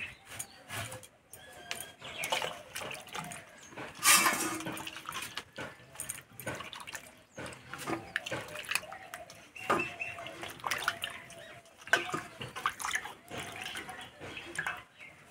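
Hands rinsed under running tap water to wash off flour while cooking young jackfruit, a steady splashing stream broken by irregular louder splashes and drips, close and fairly quiet.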